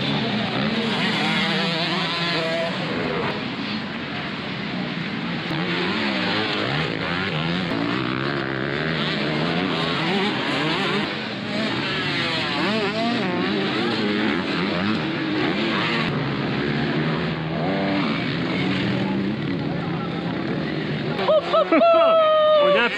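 Racing motorcycles in a five-lap race at a French motocross festival scream past in repeated waves of rising and falling engine whine. Nearby voices and crowd noise run underneath throughout.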